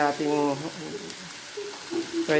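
Kapampangan adobo sizzling as it fries down in a pan, a soft steady crackle running under a person's voice at the start and end of the moment.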